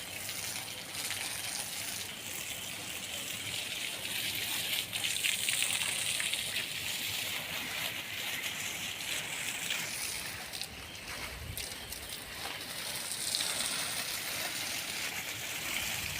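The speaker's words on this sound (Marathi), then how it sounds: "सकाळ सकाळ झाडाला पाणी पाजलेलं चांगलं असतं." Water gushes steadily from a hose or pipe onto plants in the morning, a continuous, fairly faint splashing rush that fills the whole stretch with slight swells, no voices over it.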